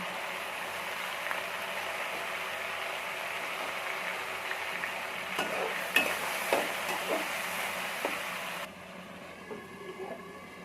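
Chopped tomato goes into a pan of fried chicken with a steady sizzle, then scraping and clanking stirring strokes build in the middle before the sizzle suddenly drops quieter.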